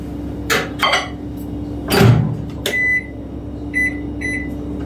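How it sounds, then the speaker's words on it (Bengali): Microwave oven heating eggs in a home kitchen: a steady low hum runs throughout, with door clunks and handling thumps early on, then a series of short electronic beeps near the end. "তারপরে আমি এটাকে মাইক্রোওয়েভ ওভেনে গরম করতে দিব"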